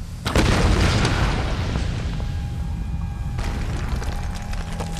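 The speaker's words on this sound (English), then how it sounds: "Another methane explosion." A heavy, booming methane explosion in the video game Tomb Raider erupts and rumbles on with a sustained roar and crackling debris, loud and close, with no talking.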